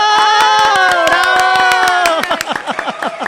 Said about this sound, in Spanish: Señoras y señores, con un fuerte aplauso recibimos a Laura Prieto.